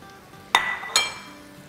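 Two sharp clinks of a spoon against a bowl ring out while chopped boiled eggs are mixed for anda chingaari, separated by a short pause over a quiet kitchen background.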